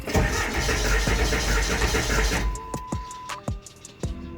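A Ford F350 with a 7.3 Powerstroke diesel engine cranks with a steady, loud starter churn, then cuts off, leaving a few sharp clicks and faint mechanical noises.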